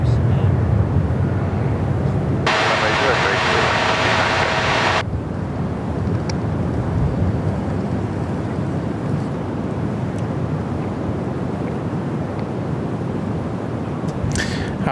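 Airbus A320 jets landing at Perth Airport rumble as a broad, steady roar heard outdoors, with a brief brighter whine partway through and wind buffeting the microphone throughout.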